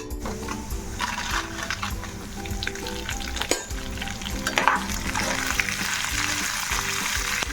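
Spices roast in a pan for Guntur karam podi, a continuous close sizzle and crackle with scraping and stirring sounds over a low steady hum from the stove.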